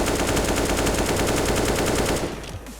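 AK rifle fired on full auto in the shooter game CS:GO, a loud continuous stream of rapid shots for over two seconds, then a sudden stop and fading echo, with no talk.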